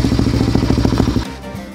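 A Honda CBR 150 motorcycle with a modified muffler rumbles close to the exhaust, with a steady rapid low-pitched throb that cuts off abruptly near the end.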